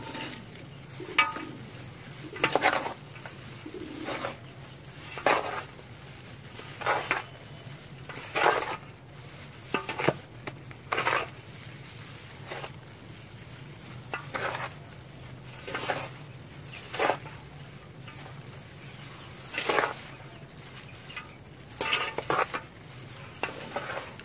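Potting soil for chili peppers is stirred and scraped in a container on a rooftop, with repeated gritty scooping strokes at an irregular rhythm over a faint steady background hum, no talk.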